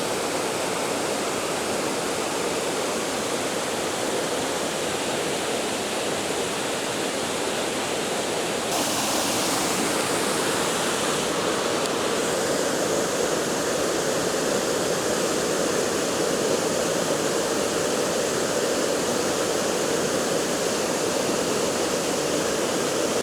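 The waterfall at Enders Falls pours in a constant, dense roar that stays steady and loud throughout, with no voices over it.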